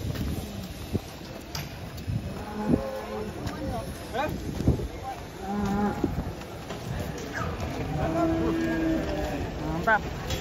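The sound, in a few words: cattle mooing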